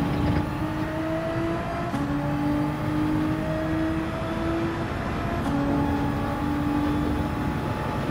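A race car engine in Gran Turismo 7 drones at high revs around the Red Bull Ring, with rising tones between gear shifts stepping up twice, loud and continuous with no talk.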